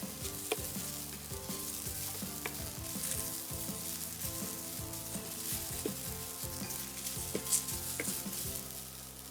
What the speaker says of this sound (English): the onions would start caramelizing in a much faster way.